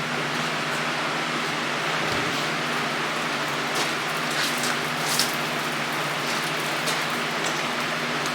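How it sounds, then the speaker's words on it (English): Steady rain falls outdoors, a continuous even hiss that spans the whole stretch with no voices over it. "And it's raining too now."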